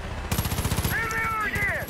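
Rapid automatic gunfire in the video game Far Cry 5, a quick burst of close, evenly spaced shots lasting under two seconds, overlapping with a voice.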